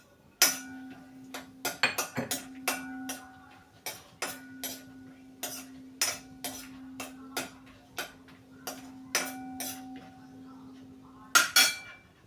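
Almond slices being stirred in hot ghee in a pan while making shira give a run of sharp metallic clinks with ringing tails, striking in a fairly regular rhythm of about one per second, close and clear over a quiet background without talk.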